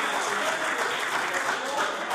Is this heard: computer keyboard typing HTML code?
no